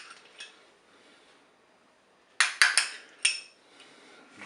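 A spoon clinks and scrapes against a Cookeo multicooker pot while mustard is mixed in for a light zucchini and parmesan gratin: a quiet stretch, then four sharp metallic knocks close together near the end.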